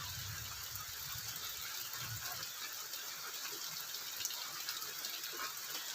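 Rain falling outdoors in a village, a faint, steady hiss of water with no talking, even and continuous from start to finish.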